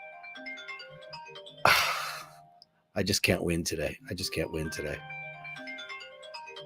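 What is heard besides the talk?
phone ringtone ringing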